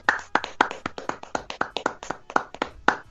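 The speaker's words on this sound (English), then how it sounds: "We just get a round of applause for episode 50." A small group of podcast hosts clapping in a studio to mark episode 50, a quick run of individual, distinct hand claps at a steady pace, close and dry.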